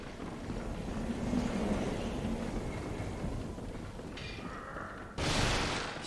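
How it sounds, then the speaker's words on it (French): Wind ambience in the game Bloodborne: a broad, rushing gusty roar that swells and eases, with a brief louder burst near the end. "Petite ambiance sonore avec le vent là"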